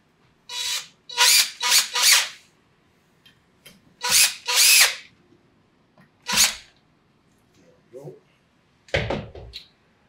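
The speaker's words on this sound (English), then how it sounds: "Grab the drill. Zip things in a little quicker." A power drill zips in short bursts during assembly of a David 3 machine, several whirring runs of about half a second each separated by quiet pauses, close and loud.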